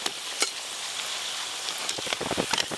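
Cabbage muitha dumplings fry in hot oil, giving a soft, steady sizzle with scattered crackles and pops that stays fairly quiet throughout, with no voices.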